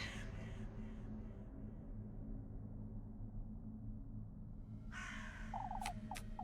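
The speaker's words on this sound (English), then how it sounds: "That crow." A crow in a video game caws several times in quick succession near the end, harsh and fairly close, over a faint steady ambient drone.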